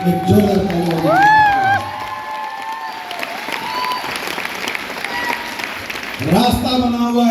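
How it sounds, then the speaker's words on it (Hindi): An indoor hall audience at a large business show breaks into loud, sustained clapping and cheering, with shouts and whoops over the applause and voices calling out, swelling again at the end. "एक जोरदार ताली बजाइए।"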